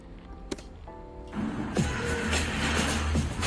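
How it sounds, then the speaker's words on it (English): A car passes by outdoors: a low engine rumble swells into steady broadband road noise after a quiet start and holds close and moderately loud to the end, with no talking. "The car's passing by."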